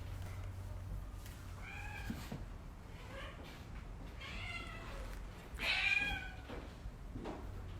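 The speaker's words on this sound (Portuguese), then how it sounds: "Tô deixando meus gatos soltos hoje" Indoor house cats meow repeatedly, with about five or six separate meows spread out over several seconds. One louder, closer cry sits near the middle, over a low background hum.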